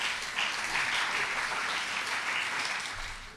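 An audience at a school book-summary competition claps for a student candidate, a dense, steady wash of applause that fades slightly at the end, with no talking.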